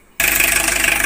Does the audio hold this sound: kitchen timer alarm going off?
no